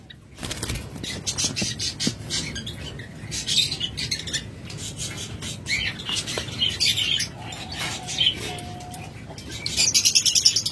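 Two caged pet birds for sale call back and forth in repeated sharp squawks and chirps, close and fairly loud, with rustling movement between the calls.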